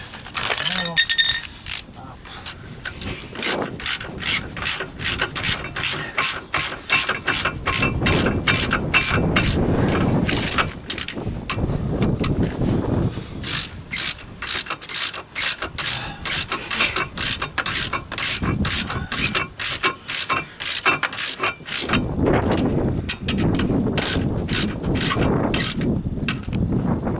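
Ratchet torque wrench tightening front brake caliper bolts on a Jaguar X Type, a long run of rapid, loud mechanical clicks in bursts with brief pauses, close up.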